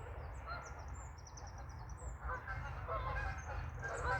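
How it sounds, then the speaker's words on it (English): A flock of Canada geese honking in the distance on a lake, scattered overlapping calls over a low rumbling background. "I think they're geese. They might be Canadian geese"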